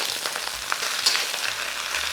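Cabbage and shiitake mushrooms being stir-fried in a large wok, a steady close hiss of frying with faint scraping stirs, no voices.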